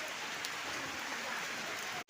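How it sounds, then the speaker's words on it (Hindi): Heavy rain falling in a village, a dense, steady hiss of downpour close by that fills the whole stretch, cut by a brief break at the end. "बहुत बारिश भी हो रहा है"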